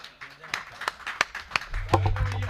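A handful of sharp, evenly spaced claps ring out from the audience at a Hindi hasya kavi sammelan comedy poetry gathering, with a voice speaking over them.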